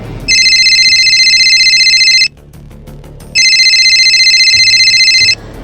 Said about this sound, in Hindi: ये रानू फोन कर रही है